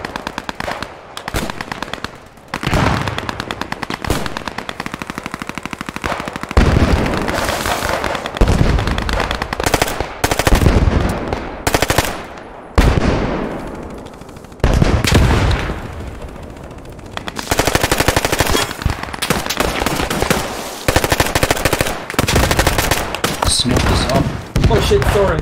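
Loud, rapid bursts of Thompson submachine gun fire in the World War II shooter Post Scriptum, repeated throughout with short pauses and mixed with other gunfire and explosions nearby.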